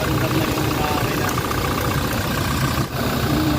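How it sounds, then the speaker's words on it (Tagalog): A Toyota Fortuner's 2GD engine, being checked for fault code C1241, runs at a steady, loud idle with an even mechanical drone and a brief dip near the end. "paantar na yung makina."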